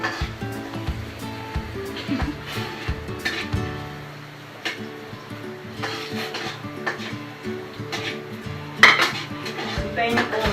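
Sautéing onions in a pan amid kitchen bustle: irregular metallic clanks of pots and utensils, a louder clatter near the end, over a soft frying hiss.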